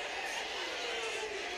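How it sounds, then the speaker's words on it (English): Crowd at a college wrestling match between 174 lb wrestlers Mekhi Lewis of Virginia Tech and Luca Augustine of Pitt, a steady roar of shouting spectators without clear breaks, heard from within the arena. "Crowd saying control"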